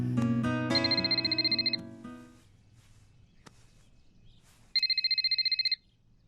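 A telephone rings in two bursts of rapid electronic trills, the first over loud music and the second alone after a pause, fairly close and clear.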